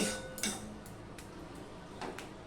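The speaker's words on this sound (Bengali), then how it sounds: "এবার আমি ভালো করে মশলাটাকে কষিয়ে নেব" A metal spatula clinks and scrapes in a pan while spice paste for a pabda fish curry is stir-fried, with a few soft, scattered taps over a quiet background.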